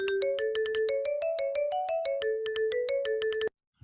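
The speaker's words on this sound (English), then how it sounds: "when I play this, it should be vibes." An Irish tune played back on vibraphone from ABC notation, a quick run of bright, ringing mallet notes in a steady jig-like rhythm, close and clean, ending abruptly after about three and a half seconds.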